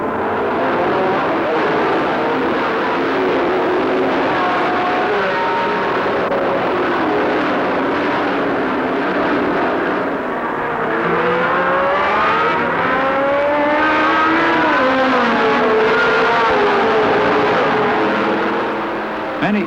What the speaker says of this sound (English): When the race starts, they're fastest into the first turn.